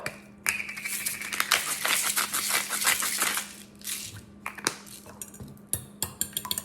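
A salt grinder cranks over eggs for breakfast fried rice, giving a dense run of gritty ratcheting clicks, then a few sparser clinks and taps of kitchenware.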